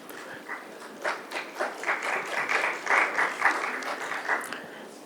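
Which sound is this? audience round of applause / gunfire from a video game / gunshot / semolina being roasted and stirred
audience round of applause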